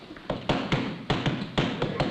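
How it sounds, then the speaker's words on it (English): Knocking at a house door in a TV drama, a run of sharp raps in irregular clusters, fairly loud and close, with no talk over it. "Better open the door before they knock it in."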